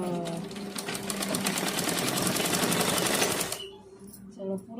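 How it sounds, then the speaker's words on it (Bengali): An electric sewing machine stitches blouse fabric in a fast, even rattle for several seconds, then stops abruptly, leaving a quiet room. "তো চলো এবার সেলাই দিয়ে নিই"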